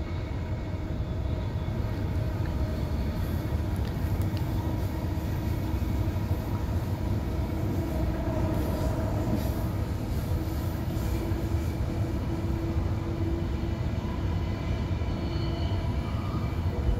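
Queensland Rail commuter train running, a steady loud rumble and rattle of the carriage throughout with continuous low-frequency roar and faint squeals, no talk.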